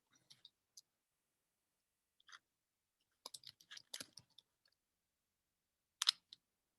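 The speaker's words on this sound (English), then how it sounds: "I hear some typing." Faint, sparse keyboard typing during an online class, scattered clicks and short clusters of keystrokes separated by near silence.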